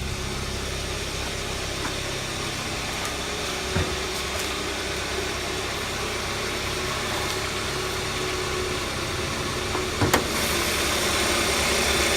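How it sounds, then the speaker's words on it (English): A 2013 Hyundai Sonata's 2.4-litre inline four-cylinder engine idles steadily with a low, even hum and faint vibration, with a couple of brief clicks partway through. "We're going to have an inline 4-cylinder engine here"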